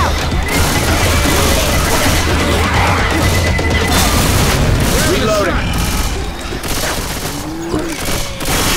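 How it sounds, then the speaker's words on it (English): Pipe bomb blast amid constant gunfire and chaos in the zombie shooter game Left 4 Dead 2, loud dense booms and crackling fusillade filling the scene continuously, with voices mixed in. "Throwing a pipe bomb."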